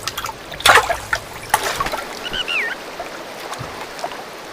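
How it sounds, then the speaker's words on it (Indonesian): Thread is washed by hand in water, with soft splashes and trickling dribbles arriving in short irregular bursts, close and moderately loud. "Venkes mencuci benang tersebut."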